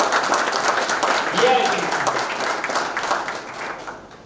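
Audience applause for a visiting AICTE advisor at a STEM club event, a steady wash of clapping under a speaker's voice throughout.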